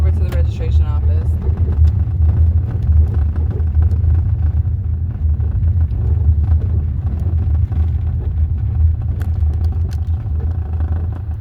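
A car rolls over a lumpy, unpaved road that is awaiting paving, giving a continuous loud low rumble with rattling clatter from the bumps, and a person talks over the noise.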